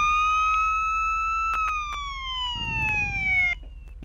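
A police car siren in the video game GTA 5 wails loud and near in a steady falling tone, with a few short clicks and a low rumble joining near the end.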